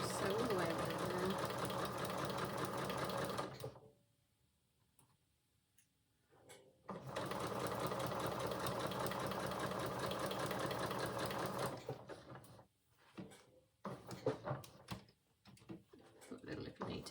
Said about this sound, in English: Just sew all the way around there.